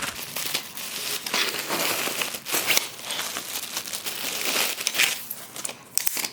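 Crinkling and rustling of packaging as the carry bag of an Ultimaxx 60-inch pro series tripod is opened, close and fairly loud, with steady scrunching and a few sharper crackles, no talking.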